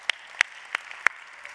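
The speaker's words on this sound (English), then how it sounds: "why are you clapping?" A few audience members clap in a sparse, uneven rhythm, about four distinct claps in a quiet room, moderately close.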